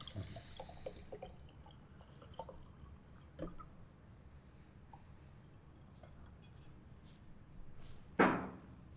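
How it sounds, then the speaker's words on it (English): Water is poured for a guest at a restaurant table, a quiet liquid trickle and a few drips over low room noise, ending in a sharp knock or thud near the end. "Let me just pour you some water."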